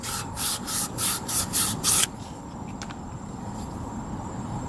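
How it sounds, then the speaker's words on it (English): Fine 2000-grit sandpaper pushed by thumb inside a drum brake wheel cylinder from a 1997-2004 Ford F-150, giving a quick series of close, gritty rubbing strokes for about two seconds before stopping, leaving quiet background noise. "I found a sheet of 2000 sandpaper and I just shoved it in like this with my thumb"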